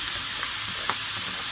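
Food sautéing in a pan for a pot luck dinner, a brief steady close sizzle with a couple of soft stirring scrapes.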